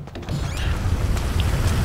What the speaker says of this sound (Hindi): अरे बाप रे भाई, इतनी ज़्यादा बारिश